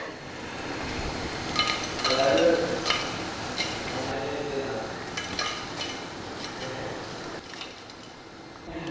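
Ivy gourd pieces fry crisp in hot oil, a steady soft sizzle under intermittent clinks and scrapes of a utensil against the pan, with light background noise.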